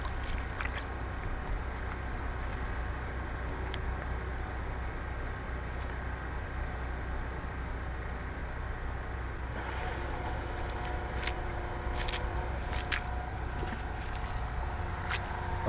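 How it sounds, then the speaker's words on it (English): A Zoller H2O Pro pump moving about 40 gallons a minute drains a flooded back yard with a steady low mechanical drone and rushing water, continuous and even throughout, with a few brief clicks and knocks near the end. "So the pump we're using is a Zoller H2O Pro, and it pumps about 40 gallons a minute."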